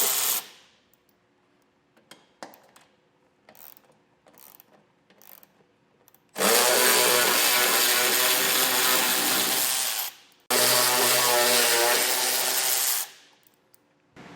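Ratchet driving base plate mounting bolts on a 2021 Jeep Grand Cherokee, two long loud bursts of rapid clicking separated by a short pause, preceded by scattered light taps and clinks of tools.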